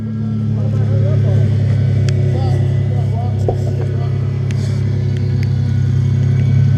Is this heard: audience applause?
no